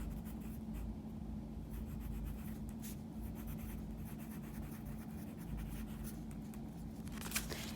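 A pen writes a name on a paper card for a Layers of the Earth project, soft close scratching strokes in quick irregular bursts over a quiet room.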